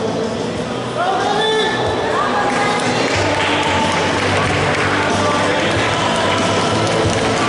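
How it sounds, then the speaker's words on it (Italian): Crowd applause for two boxers at an amateur boxing event, a dense, continuous wash of clapping that fills the room, with voices of people talking over it. "Applauso meritato"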